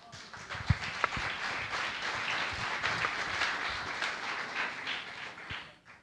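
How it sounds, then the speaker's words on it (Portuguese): Church congregation applauding together, a dense steady wash of many hands clapping for several seconds with a few sharper claps near the start, fading out at the end. "Palmas ao Espírito Santo."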